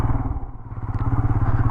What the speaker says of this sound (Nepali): अब यो बाइकलाई चाहिँ यतै पार्किङ गरिदिनु पर्यो